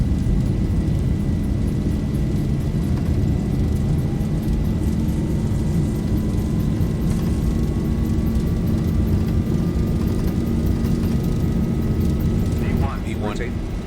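Ryanair airliner accelerating down the runway on its takeoff roll in a flight simulator, a steady loud engine roar with a slowly rising whine, with a person talking over it.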